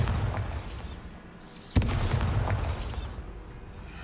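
A Bombarda explosion spell cast in the video game Hogwarts Legacy: one sharp, loud blast with a rumbling tail, set against ongoing game ambience and no talk.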